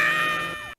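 Marge Simpson lets out a short, high-pitched cartoon scream, a single sustained wail lasting under a second that cuts off abruptly, loud and alone.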